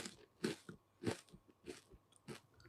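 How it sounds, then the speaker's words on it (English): Crunchy biting into spicy Jamaican-style fried chicken back, several loud close crackling crunches spaced about half a second apart, each bite followed by softer chewing, with no talking. "Listen to the crunch."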